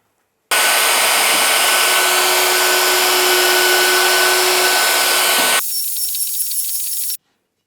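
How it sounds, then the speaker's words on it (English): A Festool plunge router bores holes in a workpiece during a mobile workbench build, with a loud continuous whine that runs for about five seconds, then drops to a quieter, thinner spin-down before stopping abruptly. "with the router limited to the depth of cut you need, you just plunge in the holes."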